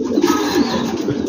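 Dutch King pigeons coo softly in a loft, a low murmuring burble over a quiet background in one short stretch.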